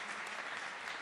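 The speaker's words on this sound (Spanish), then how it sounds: "La recibimos con un fuerte aplauso." Brief applause at a church service welcoming a pastor, a soft, even wash of clapping from a congregation heard at a distance.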